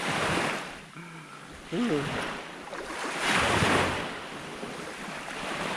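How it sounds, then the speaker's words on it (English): Sea water washes against a shingle beach at Point Clear in Essex, with steady surging waves and gusty wind buffeting the microphone, plus a brief voice-like tone partway through. "the water lapping at my feet"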